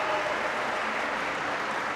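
Crowd at a women's table tennis final in Bulgaria, a steady wash of applause and cheering that holds at a constant level for a couple of seconds.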